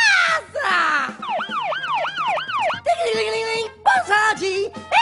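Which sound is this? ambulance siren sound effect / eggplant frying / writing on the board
ambulance siren sound effect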